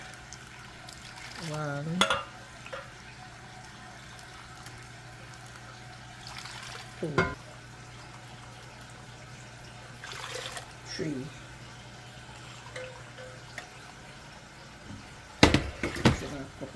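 Cups of water are poured into a cooking pot while Jamaican coconut drops are made. There are a few short splashing pours with quiet gaps between them, a voice counts over them, and a brief clatter comes near the end.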